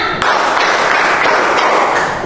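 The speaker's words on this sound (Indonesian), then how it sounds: "Kalau ibu bilang tepuknya 5 berarti tepuknya 5 kali." Classroom of children clapping together in a quick patterned burst, loud and dense with overlapping hand claps continuing through the moment.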